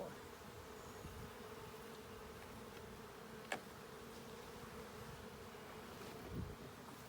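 Honey bees buzz around hive frames being arranged for honey production, a steady, moderately faint drone lasting throughout with one brief sharp click midway and a soft thump near the end.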